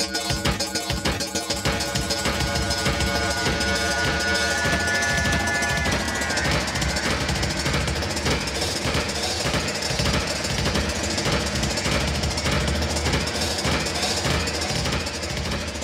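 A no-input feedback loop routed through a pitch shifter in Logic Pro X gives a dense, loud, continuous buzzing drone with rapid stuttering pulses and shifting tones that smear and change partway through, with no voices.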